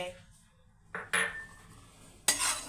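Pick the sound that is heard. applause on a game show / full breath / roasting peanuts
roasting peanuts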